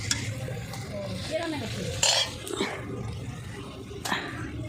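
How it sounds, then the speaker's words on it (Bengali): Kachori deep-frying in oil at a home feast, a bubbling sizzle with scattered clinks of utensils and pans, under low background voices. "এরপর কচুরি ভাজা স্টার্ট হয়েছে।"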